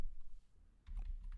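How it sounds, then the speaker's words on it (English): A few faint key clicks on a computer keyboard, quiet and close, sitting in a short stretch of near silence. "So let's type information"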